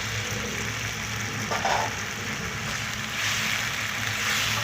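Chicken cooks in a pan with vinegar and soy sauce, giving a steady, even hiss of simmering liquid with no breaks or voices.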